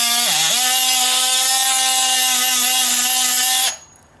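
A Ridgid JobMax oscillating multi-tool cuts wood on deck stairs, making a loud, continuous buzzing whine that dips briefly in pitch near the start, then holds steady before cutting off abruptly.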